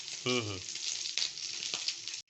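Pork sizzles and fries steadily in its own rendered fat, a close, continuous hiss with brief louder crackles and a short tonal scrape near the start.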